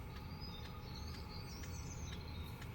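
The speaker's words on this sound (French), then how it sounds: "avec les bruits extérieurs, les oiseaux, j'entends toujours tout" Birds chirp and sing outdoors near a moored boat, a series of thin, faint high calls repeating over a steady low hum from a diesel boat heater.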